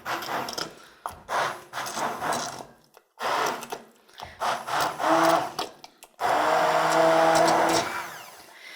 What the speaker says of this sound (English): Now the other nice thing about using an immersion blender is you can choose how pureed you want your soup.